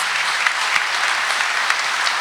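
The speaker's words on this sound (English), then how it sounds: "Please give them a round of applause" A commencement crowd at Lone Star College-Tomball claps for college board members, a loud, dense burst of applause that holds steady throughout.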